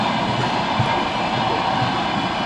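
A steady, dense roar from inside a moving electric commuter train, with a constant rumbling rush and no clear voices.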